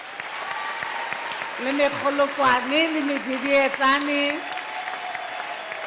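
A crowd claps steadily at a university graduation ceremony while a voice speaks or calls out over the applause, the clapping continuing throughout.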